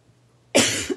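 A single sharp cough bursts out close and loud after near-silence, with a short second cough-like catch following, from a crafter presenting Stampin' Up! stamp sets and dies.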